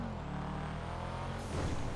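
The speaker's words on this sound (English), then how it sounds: "The blow-off valve and the turbo sounds crazy in this car." A car's turbo and blow-off valve in the GTA 5 video game, a steady engine drone with a rising whistle and a sharp hissing release near the end.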